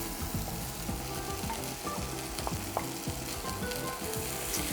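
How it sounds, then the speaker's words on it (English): Chopped onions fry with chorizo in a pan for paella, giving a dense, close, steady sizzle with faint crackles and occasional stirring taps, no voices over it. "going to add our onions in now"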